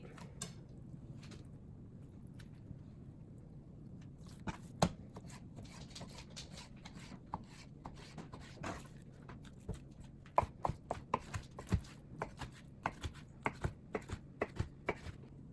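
A knife dices raw chicken into bite-sized pieces on a cutting board, giving sharp, irregular taps that come faster and louder toward the end, with a faint room hum beneath.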